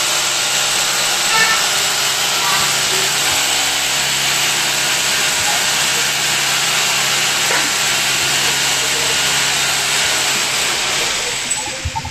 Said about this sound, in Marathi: तर आता हे ड्रिल मशीनच्या सहाय्याने आपण